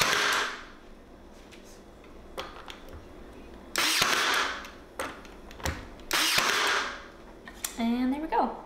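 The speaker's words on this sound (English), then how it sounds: "So I'm gonna nail straight down" Nails being driven straight down through boards to build pantry shelving, several sharp bursts of impact noise spaced out over the clip, with a brief squeaky sound near the end.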